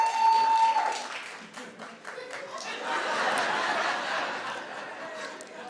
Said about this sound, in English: Clap if you did.